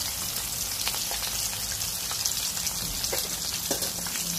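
Salmon pieces fry in hot oil in a pan, a steady close crackling sizzle with scattered sharp pops running throughout.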